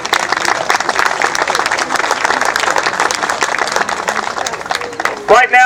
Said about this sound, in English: So I'd like to give Pam Smith a round of applause.